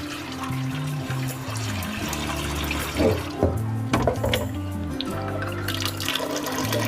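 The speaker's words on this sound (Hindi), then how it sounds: "अब इसके ऊपर नल का चालू कर देंगे" Water runs steadily from a kitchen tap, splashing continuously into a sink with a few clinks of dishes or metal under the stream.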